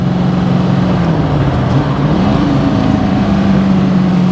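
Loud, continuous engine note of a modified TVR Griffith 500, the V8 revving and shifting pitch as throttle rises and falls, close and alone without talk.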